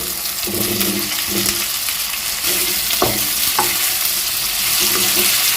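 Pointed gourd and potato pieces being stirred in a hot frying pan, with a continuous sizzle and repeated scraping strokes of the spoon close by, no voices.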